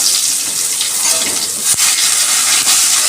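Garlic paste hits hot oil with cumin seeds for a Bengali bhola fish curry, giving a loud, steady, hissing sizzle that runs throughout, with one brief dip partway through.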